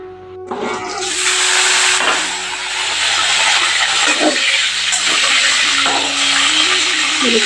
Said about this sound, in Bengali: এদিকে আলু ভেজে নিতেছি